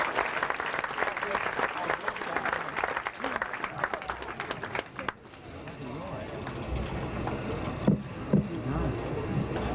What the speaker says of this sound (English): How about a nice round of applause for Joe Motes.